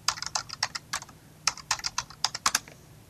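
Rapid keystrokes on a computer keyboard while entering a new password at a Linux root prompt, a close, crisp burst of irregular taps with brief pauses, no voices.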